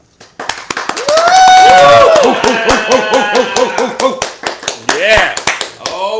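A studio audience claps in a burst of scattered hand claps mixed with whooping, cheering voices, loud and close, with a brief spoken word as well.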